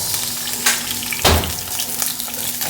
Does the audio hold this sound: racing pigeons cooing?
no